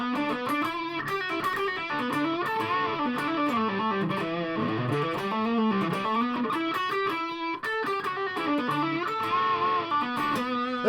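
Distorted electric guitar from a 1979 Yamaha SG200 run through a Rat distortion pedal, playing a continuous, loud, sustained chordal and melodic line with no pauses across the passage.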